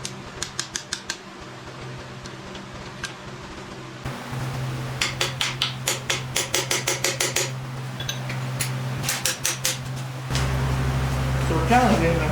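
A hammer taps at a stuck starter bolt on a 351 Cleveland engine that sat for 20 years, sharp metallic strikes in quick bursts and steady runs, close, over a low background hum.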